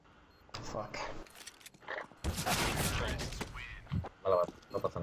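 Gunfire in the video game Counter-Strike sounds in short bursts amid players talking over each other, with a dense burst of shots in the middle.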